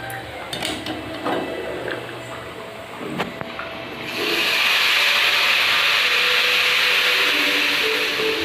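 Hot tempering is poured into a simmering dish, a loud, close sizzling hiss that erupts midway and holds steadily after some clatter and talk.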